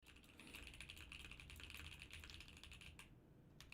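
Rapid, continuous clicking of a computer keyboard, fast and dense for a few seconds with a brief lull near the end. The typing is faint and distant, with no voices.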